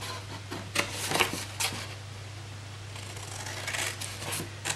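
Scissors cutting along a scored sheet of paper for a jam jar gift box, a few close crisp snips and rustles over a faint steady background hum.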